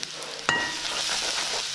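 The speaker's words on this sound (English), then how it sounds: "Do a nice stir mixing." Ginger and garlic stirred and fried in a pan with onion, a sharp clatter of the utensil followed by a steady close sizzle that holds at an even level.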